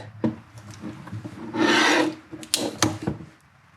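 A blade saws through a plastic car intake part for a turbocharged Hyundai Elantra, ridden against a clamp used as a cutting fence: scattered scraping strokes, then a sustained rasping cut lasting about half a second, followed by more short rasps.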